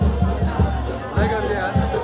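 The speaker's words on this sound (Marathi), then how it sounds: "आज मंगळवार आणि खूप पालखी आल्यामुळे खूप गर्दी आहे" Busy crowd noise at a palkhi procession by Ekvira temple, with many overlapping voices in steady chatter, close and fairly loud for a short stretch.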